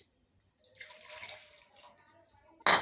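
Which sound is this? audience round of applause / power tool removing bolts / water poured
water poured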